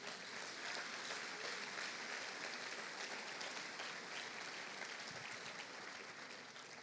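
A church congregation applauds at an evening service, a steady dense wash of many hands clapping that holds at an even, fairly distant level throughout, with no voices standing out.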